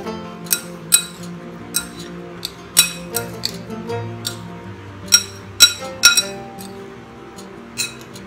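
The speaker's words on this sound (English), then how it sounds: "Using a spoon, just lightly mix it up." A spoon lightly stirs green chilies and coriander leaves for an Indian mango salsa, giving a series of sharp clinks against the bowl, scattered and irregular, with soft rustling in between.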